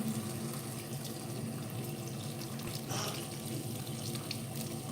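Cold tap water runs steadily into a sink while food is washed, a constant close rushing stream with faint splashes throughout.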